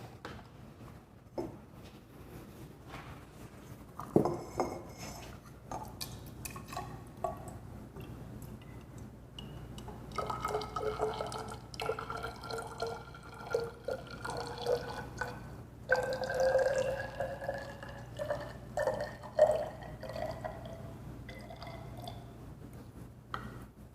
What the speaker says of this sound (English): I will then add the water to the soil, and I'm going to mix it thoroughly.